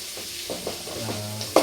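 Onions frying in a pan for gobi manchurian, with a steady close sizzle and occasional stirring scrapes, ending in a brief louder clatter.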